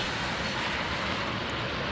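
A Union Pacific freight train of frac sand hoppers rolls past, a steady broad rumble and rushing noise at constant loudness, close and without pauses or voices.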